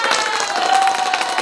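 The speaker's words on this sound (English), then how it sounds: "Where my little applause? I got a big one" A canned applause sound effect played during a live stream gives a dense, steady wash of clapping and light crowd noise, loud and close, holding evenly for about a second and a half with no talking over it.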